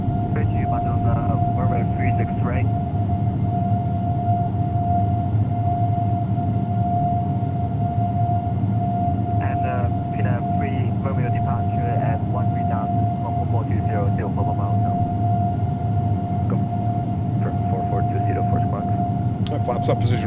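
Simulated Air Europa Boeing 787-9 engines at climb power, a continuous loud roar with a steady high whine, heard under radio chatter and a talking voice.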